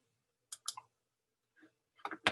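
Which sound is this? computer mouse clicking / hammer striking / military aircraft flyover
computer mouse clicking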